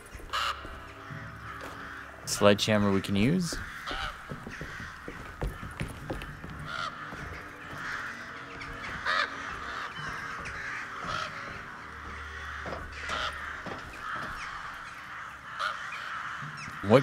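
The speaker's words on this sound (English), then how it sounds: "A lot of crows, too." Crows caw repeatedly in the Alone In The Dark video game, clear calls scattered over a steady game ambience in a fire-damaged area, with brief talk near the start.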